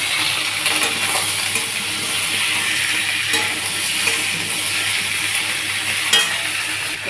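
Vegetables and green chilies fry in hot oil with nigella seeds, a loud, continuous close sizzle with occasional scraping clinks of a spoon stirring against the pan.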